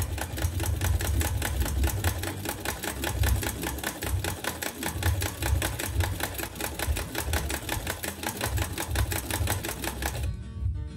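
An old, antique sewing machine runs at a steady pace, its rapid, even mechanical clatter continuing close-up for the whole stretch before stopping abruptly at the end.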